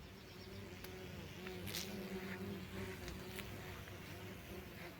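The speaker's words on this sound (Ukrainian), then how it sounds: "працюють бджоли," Faint, steady buzzing of bees and bumblebees among flowers in full sun drifts through a quiet outdoor garden, soft and continuous with a few louder passes nearby.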